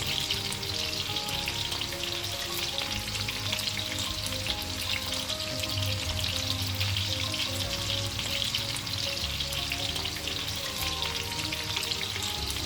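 Potatoes fry in a pan with an even, constant crackling sizzle, moderately quiet and steady throughout with no voices.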